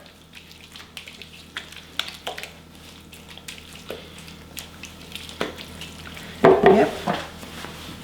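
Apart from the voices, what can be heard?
mixing Watergate salad with marshmallows and pecans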